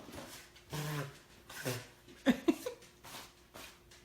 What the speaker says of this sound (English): dogs are gonna bark. Someone's here.